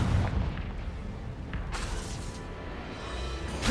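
Confringo spell blasts in the Hogwarts Legacy video game, a dense rumbling boom with crackling bursts that rolls on continuously, loud and close throughout.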